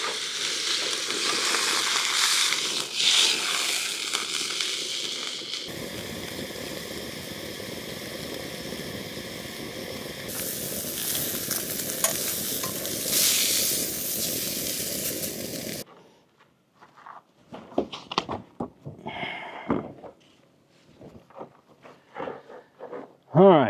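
A steak sizzles and fries in a hot pan at a car-camping site, a steady loud hiss that runs for about fifteen seconds before stopping and giving way to talk and small handling noises.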